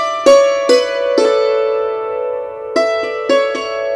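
Hammered dulcimer playing a short phrase of the fiddle tune Soldier's Joy, with five bright struck notes whose ringing strings sustain between strikes, played alone, close and clear.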